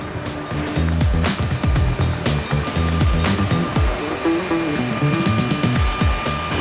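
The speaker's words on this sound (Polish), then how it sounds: "teraz na wiertarce CNC wykonujemy bok łóżka" A CNC drilling machine runs loudly and continuously, boring 126 holes in a bed side panel, its motor whine shifting pitch as the bit bores hole after hole with repeated mechanical clicks.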